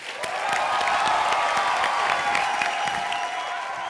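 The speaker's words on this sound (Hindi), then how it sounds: "जोरदार तालियों के साथ स्वागत कीजिए" A studio audience at a Hindi comedy show breaks into sustained, dense clapping that swells and holds, with faint cheering mixed in, welcoming guests Shakeel, Pooja and Shruti onto the stage.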